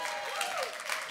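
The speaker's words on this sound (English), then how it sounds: "Give yourselves a round of applause" Brief burst of audience applause at a civic engagement event on women entrepreneurs, a continuous patter of clapping with voices rising over it.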